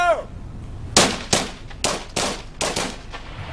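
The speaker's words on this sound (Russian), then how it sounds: "Хорош стрелять, здесь мирные жители!" Gunfire in Ukraine's Donetsk region near Marinovka: about six sharp, loud shots at irregular intervals, each leaving a short rumbling tail, over a low background murmur.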